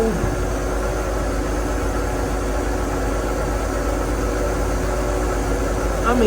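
Boat engine idling steadily at 1,000 RPM after propeller shaft alignment, a smooth, even low hum held at constant level without revving.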